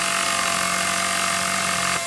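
A power tool being used to repair a vehicle in Battlefield gives a continuous, loud, buzzing whine that holds steady for about two seconds before cutting off.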